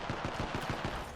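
Rapid automatic gunfire in the video game Apex Legends, a tight burst of about seven evenly spaced shots in just over a second, close and fairly loud with no talk over it.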